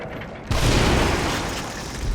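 A shotgun blast in the survival horror game The Evil Within: one loud, sudden boom after a quiet moment, followed by a dense, rumbling tail that stays heavy until the end.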